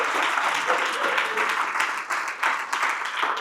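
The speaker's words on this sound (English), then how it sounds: "That deserves a round of applause." An audience breaks into applause, a dense steady clapping that fills the room at close range and holds throughout.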